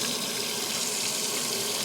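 Hot water gushes steadily from an RV sink tap, a loud, even hiss of running water that cuts off abruptly at the end.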